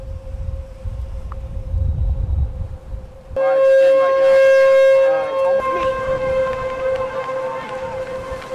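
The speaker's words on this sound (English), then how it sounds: "we all just started walking with the sirens going off" Tornado warning sirens sound at a baseball game during a high wind advisory. Crowd murmur comes first, then a loud, steady wailing siren tone with strong harmonics rises and holds over the ballpark noise.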